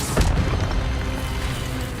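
The Incendio fire spell is cast in Hogwarts Legacy, a sudden booming burst that fades into a continuous rumbling roar of flame.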